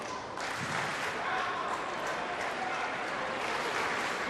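A full crowd at a 2014 Commonwealth Games mixed team badminton quarter-final applauds in a sustained, dense wash of clapping that fills the arena throughout, with a commentator talking faintly beneath.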